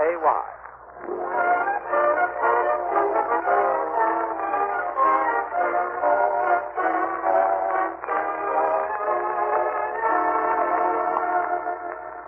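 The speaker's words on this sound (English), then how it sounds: "Gildersleeve, as he and Marjorie and Leroy wait in the Summerfield Railroad Station for the arrival of that well-known authoress" Steam train at a small-town railroad station in an old radio drama: a steady, echoing rumble with a whistle-like tone holds throughout at moderate loudness, apparently with no talking over it.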